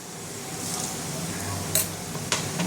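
Potato pieces dropped into hot oil in a pan seasoned with whole cumin and salt give a steady soft sizzle, with a couple of sharp clinks of utensils near the end.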